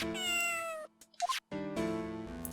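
A cat in Phoenix Wright: Ace Attorney Trilogy meows twice, clear and close, with a brief soft chirp in the short gap between the two drawn-out calls.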